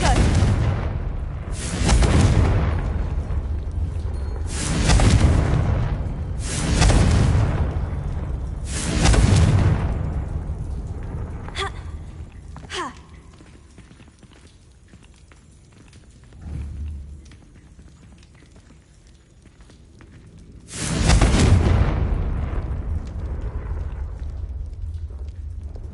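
Confringo fire spell explosions in Hogwarts Legacy, booming out in a rhythmic series of heavy blasts, a quieter gap with a few sharp cracks, then one more loud boom, with faint talk in between.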